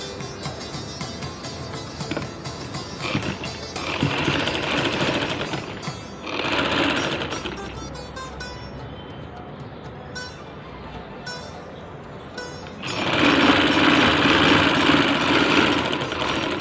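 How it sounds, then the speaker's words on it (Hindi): A sewing machine stitches a polyester bed sheet in bursts, its rapid mechanical clatter running loud and close, pausing briefly between runs and ending with a long, steady stretch of stitching. "अभी इस तरफ पे एक सिलाई देंगे"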